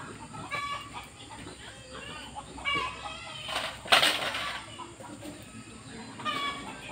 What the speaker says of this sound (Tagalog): Napakasusigla ng baboy at mga manok.